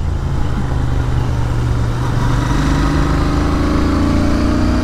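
Royal Enfield Interceptor 650 motorcycle on Dunlop Mutant tyres being ridden, a loud steady engine drone with gradually rising pitch as it accelerates, mixed with wind noise and no talk.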